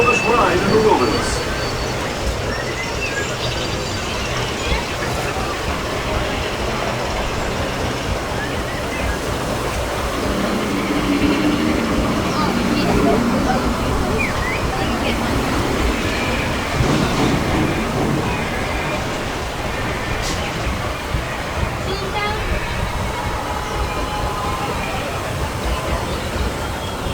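Disneyland Railroad train at Disneyland, California, rumbling continuously through a full loop, a loud steady roar of wheels and track noise with a faint voice under it.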